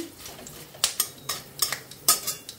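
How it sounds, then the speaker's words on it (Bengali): Dried red chillies, bay leaf and spices stirred in a pan for a vegetarian sago khichuri: quick metallic spoon scrapes and clinks against the pan, close and moderately loud, repeating in a loose rhythm without speech. "আর এই শুকনো লঙ্কাটা দিয়ে দেবো, তার সাথে মশলাটা দিয়ে দেবো, একটু নাড়াচাড়া করবো"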